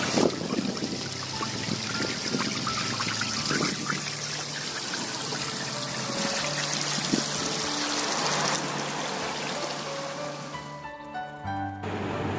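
Freshwater springs trickle beside a salty sea shore on the Konkan coast, a steady moderate splashing flow of water with surf in the background.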